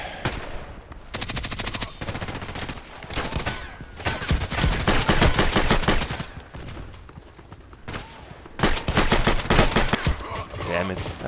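Bursts of Vintorez sniper rifle fire in a Deathmatch video game, rapid dense volleys of shots with brief pauses between, loud and close.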